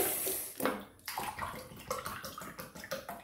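Water from a glass pours into a cooking pot for mutton pulao stock, a close splashing, gurgling stream that starts, pauses briefly, then continues in uneven glugs.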